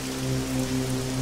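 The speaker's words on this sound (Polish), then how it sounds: "pada deszcz, nie słychać nas aż tak bardzo" Steady hissing rainfall in the Arma 3 DayZ/Exile mod game, a brief continuous wash with a low droning hum underneath.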